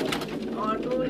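Fancy pigeons in a loft coop coo in a low, throaty murmur, close by and continuous for a moment, with a person speaking alongside.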